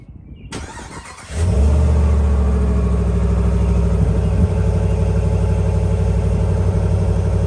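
A car with its stock exhaust cranks over and settles into a steady, loud, close idle. A low, even rumble holds for several seconds.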